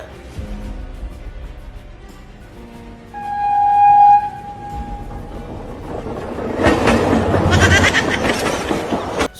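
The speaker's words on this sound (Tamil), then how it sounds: "இப்படி ஒரு ட்ரெயின் வரும் நானும் சத்தியமா எதிர்பார்க்கவே இல்லைங்க" A train rumbles and clatters past at close range, growing loud and broadband near the end, with a brief tonal horn-like whistle partway through.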